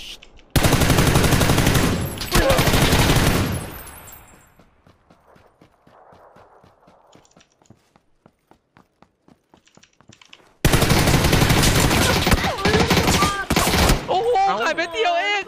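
Gunfire in a video game shootout comes in two loud, rapid bursts separated by a quiet stretch of faint ticking, with people talking.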